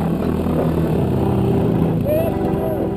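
A Kawasaki KX dirt bike engine on a hill jump, revving loud and close with a rising, changing pitch, while voices talk over it.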